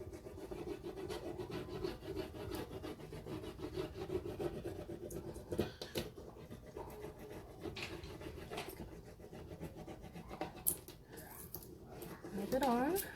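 Steady close-up rubbing and scraping of a transfer being pressed onto a window pane, a continuous textured friction sound with a brief squeak near the end, with talking heard throughout.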